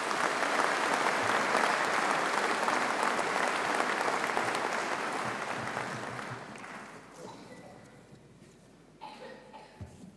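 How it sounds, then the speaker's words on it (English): Rapturous applause from a graduation ceremony audience at Birmingham City University greets the Vice-Chancellor, loud and sustained for about six seconds before fading away, with a few scattered claps near the end. "So please give him a rapturous applause."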